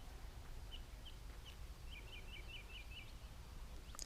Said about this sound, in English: as you can hear, just like birds and everything